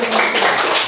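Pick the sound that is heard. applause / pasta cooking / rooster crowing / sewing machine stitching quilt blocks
applause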